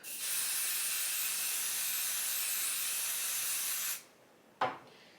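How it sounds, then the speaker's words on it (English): A long steady hiss of spray adhesive from an aerosol can onto embroidery stabilizer, lasting about four seconds, then a brief sharp spritz after a short pause. "So I'm gonna spray my stabilizer, and then we're gonna hoop."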